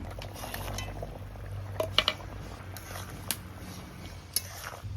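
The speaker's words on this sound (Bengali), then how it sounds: "ঝোলটা ভালো করে ফুটিয়ে নিয়েছি পাঁচ সাত মিনিট" Rohu fish curry broth with taro simmers in a pot, a continuous soft bubbling with a few sharp utensil clinks scattered through it.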